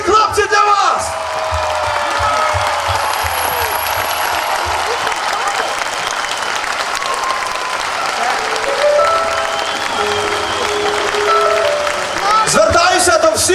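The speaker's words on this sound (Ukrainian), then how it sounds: "Оплески!" A large concert crowd in Kalush applauds loudly and steadily for over ten seconds, with whoops and shouts mixed into the clapping and a voice breaking through briefly at the start and end.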